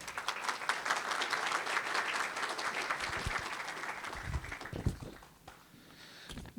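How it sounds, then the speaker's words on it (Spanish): An audience at an international pension seminar applauds the incoming speaker with a dense, steady wash of clapping that holds for several seconds, then thins out and fades near the end. "Fuertes los aplausos para él, por favor."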